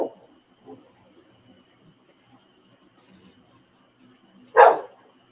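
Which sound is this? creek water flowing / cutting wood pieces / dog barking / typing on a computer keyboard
dog barking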